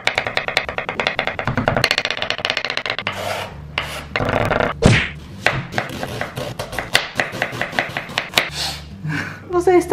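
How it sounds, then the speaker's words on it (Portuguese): Rapid, steady knife chopping of garlic on a cutting board, a fast rhythmic tapping that pauses briefly and resumes, close and fairly loud. "Então eu vou começar picando aqui primeiro o alho."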